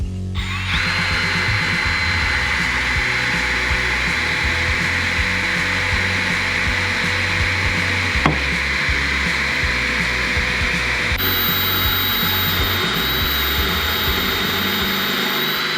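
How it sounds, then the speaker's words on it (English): A drill bit boring through a thin old license plate bracket: a loud, steady high-pitched motor whine with grinding throughout, one brief spike as the bit catches, and no voices. "Let's try to drill through this."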